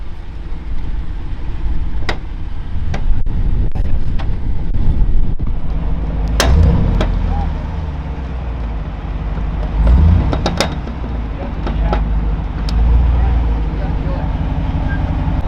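An off-road Jeep idles and rumbles steadily on a trail during a safari event while it is put in reverse, with a low engine drone throughout and a few sharp clicks and knocks.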